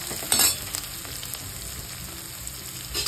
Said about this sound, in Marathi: थोडासा ओवा टाकते मी, असा हातावर क्रश करून थोडासा फोडणीमध्ये